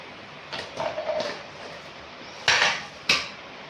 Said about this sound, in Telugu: మూత పెట్టేసాను